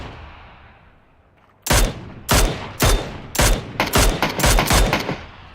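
Video game gunfire: after a quiet start, a series of sharp, loud shots ring out, seven or eight bursts in uneven rapid succession with a short reverberant tail, heard alone without talk.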